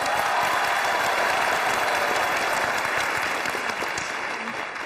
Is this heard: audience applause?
yes